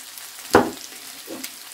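Food sizzles in a frying pan while beef stroganoff is cooked at home, a faint hiss with one sharp spitting burst and a softer one after it.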